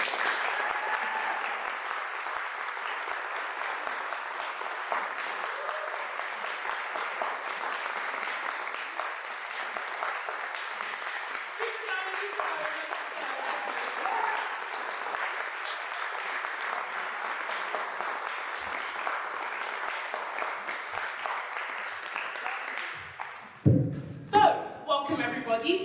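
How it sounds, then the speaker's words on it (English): A large audience applauds continuously as speakers walk onto the stage at a scholarship foundation event, a dense, steady clapping crowd sustained for over twenty seconds before breaking into a few louder thumps and handling noises at the end. "Please give them a round of applause."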